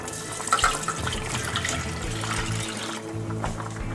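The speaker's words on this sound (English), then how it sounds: "Okay, now the butter is melted, we're going to pour in our milk." Milk pours into a pot of melted butter, a steady liquid stream splashing and gurgling for a few seconds, close and moderately loud, with small clinks near the start.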